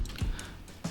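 Keys tapped on a computer keyboard while entering text in Canva, a few quick close clicks spaced through a short moment, no talking.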